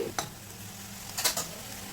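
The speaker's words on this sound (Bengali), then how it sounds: "এবার এইভাবে নাড়াচাড়া করে যদি জল থাকে জলটাকে শুকিয়ে নেব" Vegetables, including radish greens, stirred in a frying pan with a little oil, giving a few brief scraping strokes, one near the start and a pair a second later, over a low steady background hiss.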